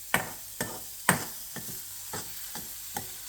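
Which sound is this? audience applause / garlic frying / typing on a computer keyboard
garlic frying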